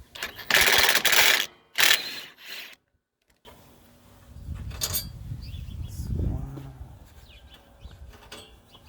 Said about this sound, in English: We're gonna remove this bolt right here. That's a 10mm.